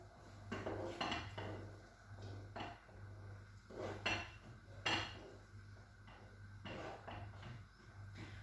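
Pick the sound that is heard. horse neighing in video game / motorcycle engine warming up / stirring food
stirring food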